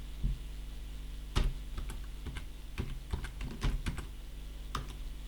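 Someone types numbers and text into a spreadsheet on a computer keyboard, the key clicks coming in irregular short bursts and single taps over a low background hum.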